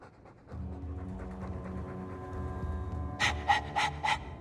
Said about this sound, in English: All that noisy dog breath